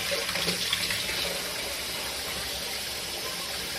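A steady, loud rush of running water from a tap fills the whole stretch as something is rinsed out, an unbroken hiss with no voices over it.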